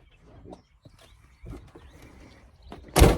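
A single loud thunk as the gas locker door on a new Auto-trail Expedition 67 motorhome is slammed shut outdoors, coming after a few faint knocks and light rustling.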